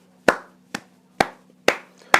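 Five slow, separate claps spaced about half a second apart, sharp and close, each a crisp slap against near silence with a low steady hum underneath.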